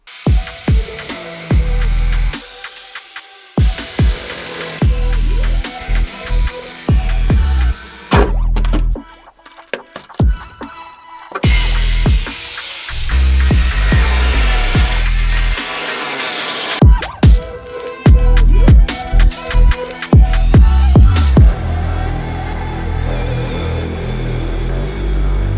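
Sawing through rusted metal on a BMW E46 car during a repair, loud harsh rhythmic grinding and scraping in bursts with brief pauses, close to the source and without speech.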